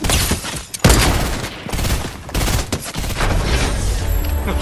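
Heavy gunfire in a Fortnite match, dense bursts of rapid shots and booming blasts trading back and forth with almost no pause, loud and close throughout.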